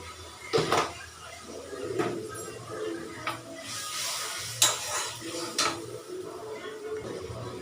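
Mushrooms being sautéed in a pan, with a soft continuous sizzle broken by several louder scraping strokes of stirring at irregular intervals.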